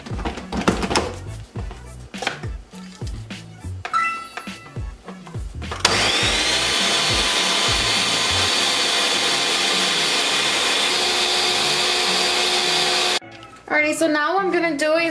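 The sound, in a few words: kitchen blender running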